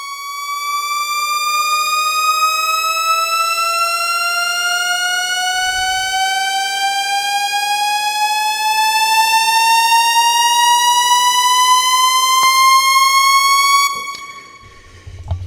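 A steady Shepard tone glides slowly and continuously upward in pitch, seeming to climb without end, two layers crossfading as each rises an octave, with a brief dip and re-trigger near the close.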